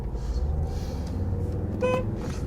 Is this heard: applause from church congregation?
no